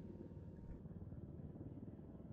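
Large helicopter in the shooter Ghost Recon Wildlands, a steady close rotor and engine roar with rhythmic low chopping that continues evenly for a few seconds with no voices over it.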